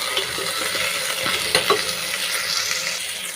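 A spoon stirs goat trotter curry through a sizzling pan, steady frying hiss with soft scraping strokes, close and fairly loud.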